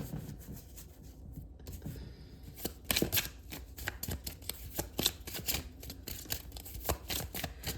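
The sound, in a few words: shuffling advice cards for a tarot-style reading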